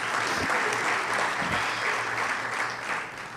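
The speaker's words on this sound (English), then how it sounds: "I'll pause because you know that's an applause line" An audience at a public policy leadership forum breaks into a short burst of applause, a dense, even clapping that holds for a few seconds before tapering slightly.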